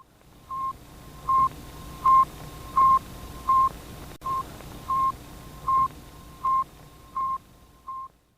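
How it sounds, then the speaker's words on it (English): Sputnik 1, the Soviet satellite launched in October 1957, sends its radio signal as a steady train of about a dozen short, evenly spaced electronic beeps over a faint hiss, with no talking. "Sputnik 1 simply released that beep beep radio signal that could be heard around the world"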